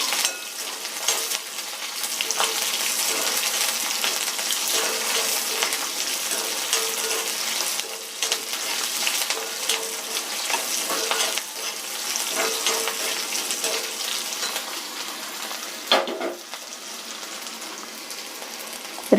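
Garlic, onion and red chili frying in hot oil for a traditional kara kuzhambu, a loud, dense sizzle that holds steady throughout, with a few stirring scrapes and no talking.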